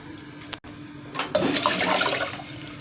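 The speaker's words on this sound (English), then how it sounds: "So we are going to add water." Two cups of water pour into a cooking pot of sausages for rice and sausage curry, a steady splashing rush that starts suddenly and carries on, close and fairly loud.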